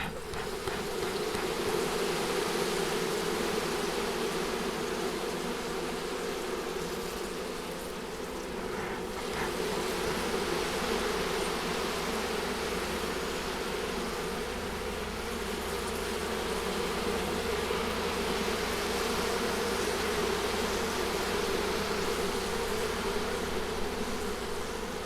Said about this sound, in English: Listen to them buzz when I smoke them.